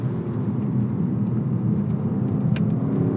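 A 2018 Lexus LC500 accelerating hard on the throttle, its engine giving off a loud, steady, deep rumble that holds for the whole stretch with no one speaking.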